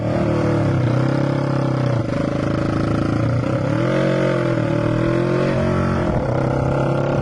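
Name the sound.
café racer motorcycle riding past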